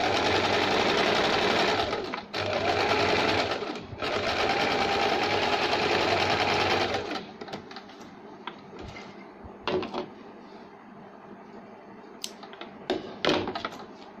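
A sewing machine runs in long steady bursts while stitching a double seam on a lined saree blouse, loud and close, pausing briefly twice before stopping; softer handling clicks and fabric rustles follow.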